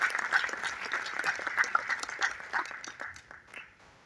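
Audience applause at an award ceremony presenting the Mahayogi Bhushan award, a dense burst of clapping that holds steady for several seconds before thinning out near the end.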